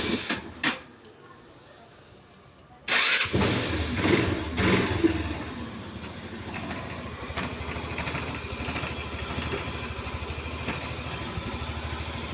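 An ERN150 motorcycle engine starts and idles with a rough, rattling clatter after a few thumps, running steadily and near with a gravelly mechanical rattle, with someone talking early on.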